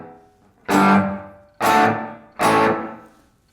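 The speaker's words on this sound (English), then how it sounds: "It's a lot of room echo." Three loud distorted electric guitar strums through a Blackstar IDX Floor modeller on its large room setting, width wide and fully cranked, each chord ringing out and decaying into a spacious room echo before the next.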